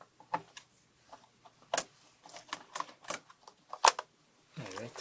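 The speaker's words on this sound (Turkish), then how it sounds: "Evet, klavye çıktı." An old laptop keyboard is pried loose from its socket, giving a scattered run of sharp plastic clicks and snaps at close range, with a louder crack near the end and a short rattle after it.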